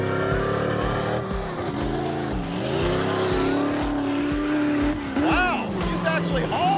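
A 1973 Dodge Dart Street Freak with a three-speed stick races hard on a dirt track, engine revving and rising and falling in pitch, with tire noise, rocks flung and people talking over it.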